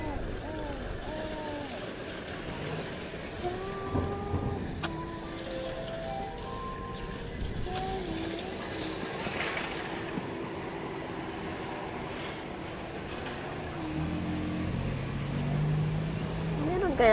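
Cold wind gusts outdoors in Nagoya, a low rumbling buffet against the microphone under steady chatter from people talking nearby.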